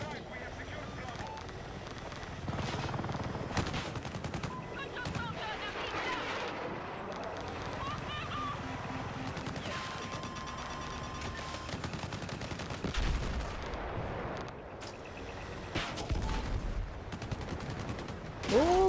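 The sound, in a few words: enemy gunfire at helicopter in video game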